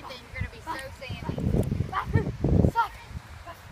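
A dog barks on a sandy beach in Panama City Beach, a few short yips and barks mixed with rustling and people talking nearby.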